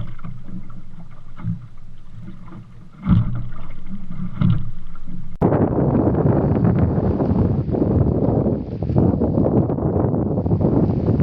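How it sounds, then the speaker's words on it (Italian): Wind buffets hard against the microphone with a broad roar, rising abruptly midway and staying strong, along with splashing water from a dinghy in choppy sea off Marina di Pisa. "il vento è aumentato e c'è anche un po' di mare che purtroppo frena molto"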